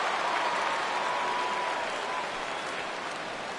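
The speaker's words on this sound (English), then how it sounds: "So he receives a nice ovation from this home crowd" Home crowd ovation in the baseball video game MLB The Show 17 at Fenway Park, a steady wash of applause and crowd noise that holds loud and even throughout without a break.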